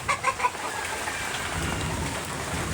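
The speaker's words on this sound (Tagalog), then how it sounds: "May background pa na kumukulog guys." Steady rain pours during a thunderstorm while a low rumble of thunder rolls in the background, with a few brief louder sounds near the start. No one talks.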